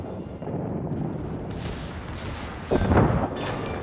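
Battleship main guns firing a salvo in the World of Warships naval combat game, a continuous low rumbling roar with a heavier boom burst near the end, loud and dense with no voices over it.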